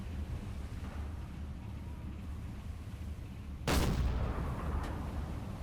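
A submarine deck gun fires a single high-explosive shell in the naval game Silent Hunter 4, aboard the USS Plunger: one loud, sharp blast with a trailing rumble over steady wind and sea noise.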